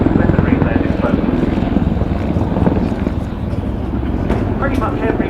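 A Czech Air Force Mil Mi-24V Hind helicopter flies a display at RAF Fairford during RIAT 2015 with its undercarriage retracted, giving a steady pulsing rotor throb under continuous commentary over a loudspeaker.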